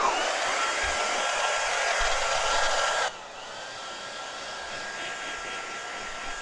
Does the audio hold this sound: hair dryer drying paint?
yes